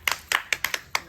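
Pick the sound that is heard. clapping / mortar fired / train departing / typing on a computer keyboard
clapping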